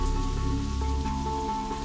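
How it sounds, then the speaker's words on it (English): Rain falling on pavement outdoors beside a playground, a steady dense patter with low rumbling underneath, continuous and fairly close throughout. "the sound of rain falling on the pavement where the three boys stood."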